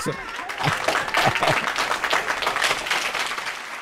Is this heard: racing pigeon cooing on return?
no